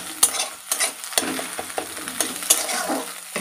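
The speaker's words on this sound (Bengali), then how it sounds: "ডিমটাকে কুচি কুচি করে কেটে কেটে নেব," Egg is chopped up and stirred with a utensil as it fries in a pan for egg chow mein, giving a steady sizzle broken by a series of sharp scraping taps, close and clear, with no talking.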